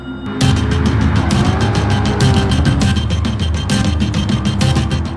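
A loud, steady Chevrolet C8 Stingray 6.2-liter small block V8 roar in Gran Turismo 7, sustained at high revs with rapid pulsing and occasional squealing tires.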